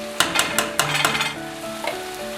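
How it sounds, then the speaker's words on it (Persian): Tomato paste sizzles steadily in a pan while a utensil scrapes and taps against it several times near the start, then the frying continues on its own. "تف میدیم تا حسابی خوش رنگ بشه"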